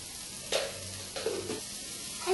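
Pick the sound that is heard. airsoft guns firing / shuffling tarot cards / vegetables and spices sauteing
vegetables and spices sauteing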